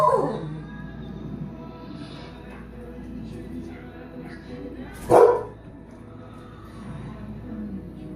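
A dog reacts to a Budweiser Super Bowl commercial with a puppy and Clydesdales, giving one short sharp bark near the start and another loud bark midway, over low, steady television sound in a room.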